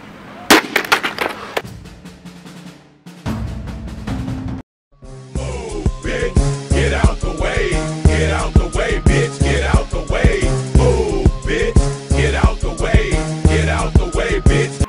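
A hammer repeatedly strikes a SteelBird motorcycle helmet during a torture test, giving sharp, loud impacts in an irregular series with ringing knocks, broken by a brief silence before a busier run of hits.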